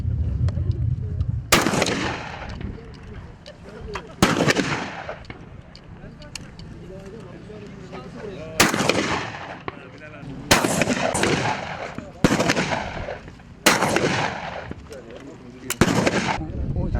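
Rifle shots ring out at a single-bullet shooting competition in Sındırgı, about seven loud sharp cracks at irregular intervals with echoing tails, while people murmur and talk between them outdoors.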